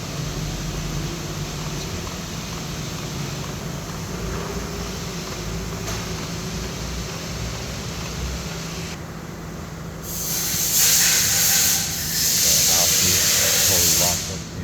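An electric motor hooked up and running under load drones steadily with a low hum, then shifts to a louder, brighter hissing whine as the direction is switched; talk sits under the noise.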